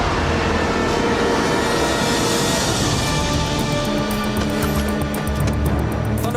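An animated train rumbles and clatters along the tracks, loud and continuous, with faint metallic squeals near the end.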